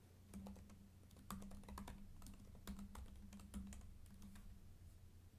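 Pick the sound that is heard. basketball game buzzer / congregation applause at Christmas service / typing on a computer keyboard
typing on a computer keyboard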